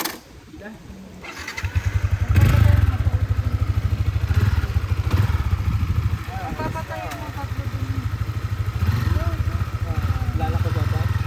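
A motorcycle engine starts and runs loudly close by on a drizzly path in Paete, Laguna, a steady throbbing rumble, with brief voices near the start.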